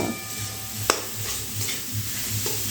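Grated cauliflower cooks in a pan over a low-to-medium gas flame, giving a soft, steady sizzle. A spoon or spatula stirs it now and then with light scraping, and there is one sharp clink of metal on the pan.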